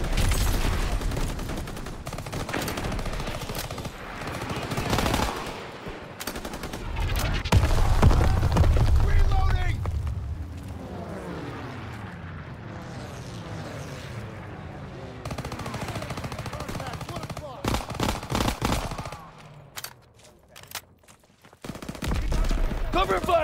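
Heavy gunfire and machine-gun bursts fill a Call of Duty WW2 battle at a stronghold, with loud rapid volleys, booming shots and shouted voices mixed in throughout.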